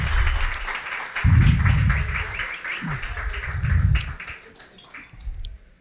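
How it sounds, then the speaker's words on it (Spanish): An audience gives a warm round of applause welcoming the economist Alberto Acosta Burneo, steady clapping that swells twice, with some crowd noise underneath. "pido que le den un fuerte aplauso al economista Alberto Acosta Burneo"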